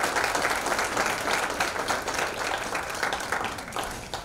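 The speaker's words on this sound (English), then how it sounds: "Let's give them all a round of applause." An audience applauds at a 2018 athletic hall of fame recognition ceremony: dense, sustained clapping from many hands fills the hall throughout, with no voices above it.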